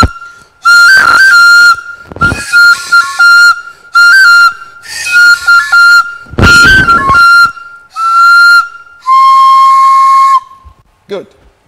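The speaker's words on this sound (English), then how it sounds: "It's a small variant of the oja." Small Nigerian wooden oja flute playing a series of bright, breathy whistled phrases, loud and close, with short gaps between bursts and a sliding note at the end.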